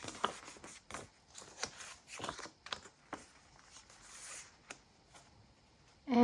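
Scissors snip the corners off a fabric tag in a quiet studio, making a series of short crisp cuts with soft rustling between them.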